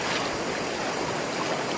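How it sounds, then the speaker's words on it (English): Flooded creek water rushes across a trail crossing on the Ozark Highlands Trail after heavy rain, a steady, close broadband roar of fast current with no voices. "The current's going pretty good."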